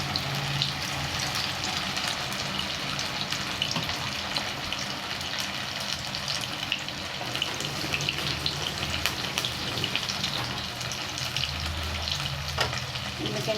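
Sago (sabudana) pakoras fry in hot oil, a continuous, even bubbling sizzle heard close up for the whole stretch with no talking.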